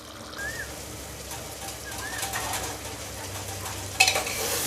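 Beef keema with peas fries in a pan, a continuous close sizzle with intermittent scraping from stirring and a sharper clatter near the end, with no talk.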